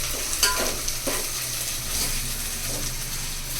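Ginger-garlic paste frying with onions in a pan for a spicy chicken curry: a continuous close sizzle with a few scraping, clicking stirs near the start. No voices.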